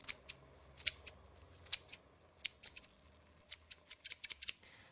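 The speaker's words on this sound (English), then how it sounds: "Lime leaves, just snip them in." Scissors make a quick series of crisp, close snips, irregularly spaced, cutting lime leaves over a cooking pot in a quiet kitchen.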